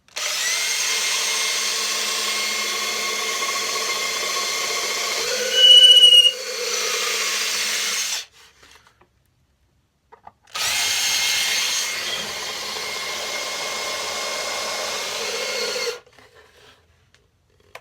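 A power drill with a long bit whines steadily through wood for a cigar box guitar in two long runs, the first about eight seconds and the second shorter, with a quiet pause between them.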